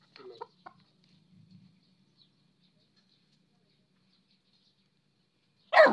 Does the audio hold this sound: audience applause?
no